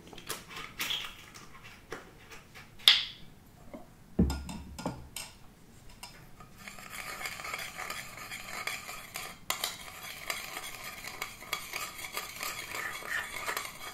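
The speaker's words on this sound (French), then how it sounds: "je mélange la moutarde et le vinaigre" A spoon clinks and scrapes around a bowl, stirring mustard and balsamic vinegar; sharp taps come first, then a steady, close swirling scrape continues with no talking.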